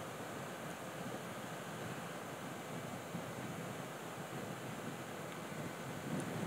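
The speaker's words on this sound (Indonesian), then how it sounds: "Angin yang bertiup sangat kencang sekali. Hembusannya berat." Strong, heavy wind roars steadily across the microphone during a fast road bike ride near the 36 km mark of a race from Ambar Ketawang, Jogja versus Klaten, with continuous loud buffeting and no pauses.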